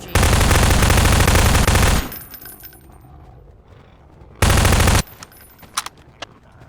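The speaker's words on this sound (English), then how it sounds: "SMG." An SMG in Garry's Mod fires two loud, dense sustained bursts, the first about two seconds long and the second shorter, separated by quieter clinks and scattered sounds.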